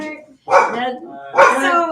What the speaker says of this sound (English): Tank clears the air with his barking.